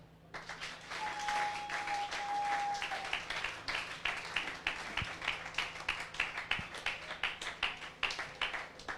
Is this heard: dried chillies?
no